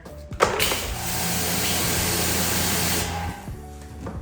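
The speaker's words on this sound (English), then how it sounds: "Let me spray off my tire." A tire cleaner sprays onto a car tire: a steady pressurized spray hisses loudly for a few seconds after a brief click, then cuts off, leaving a low background hum.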